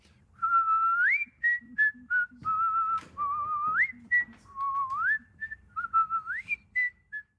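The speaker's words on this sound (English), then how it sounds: "he's, of course, whistling" Someone whistles a tune in clear, steady phrases with rising slides between held notes, close and fairly loud over a faint low hum.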